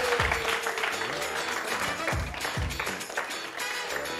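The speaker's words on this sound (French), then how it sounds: "On applaudit Mohamed." A studio audience on a French TV show applauds in a sustained round of clapping with a few sharper claps, while voices are heard faintly underneath.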